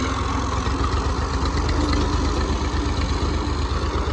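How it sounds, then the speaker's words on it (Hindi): A tractor engine runs steadily in village fields, a low chugging rumble that stays even and close without revving. "इधर आ गया यार ट्रैक्टर"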